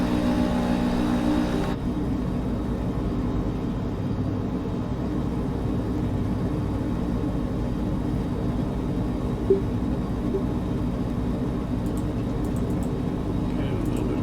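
Steady drone of a Kitfox Speedster light aircraft engine in Microsoft Flight Simulator, holding a continuous even hum with a slight shift early on as the throttle is pushed up, with a voice talking over it.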